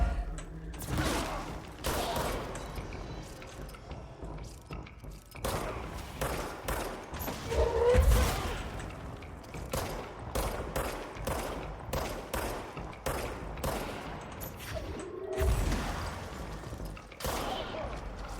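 Sniper rifles fire during a video game, sharp cracks recurring at irregular intervals among dense game sounds and mechanical clatter, at moderate loudness with no one talking.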